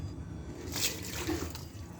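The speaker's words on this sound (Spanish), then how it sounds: "Pero quiero que vean apagándolo con agua" Water poured onto a small campfire to put it out, a steady splashing and hissing stream close by, with no talk.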